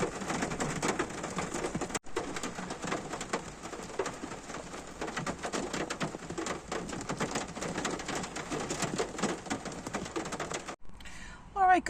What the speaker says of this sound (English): Oh my God, the rain.